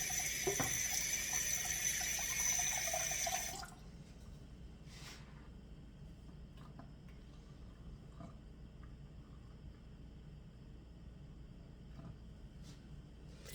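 Cold tap water runs hard into a measuring cup, a loud bright gush that stops after a few seconds, leaving a faint quiet room.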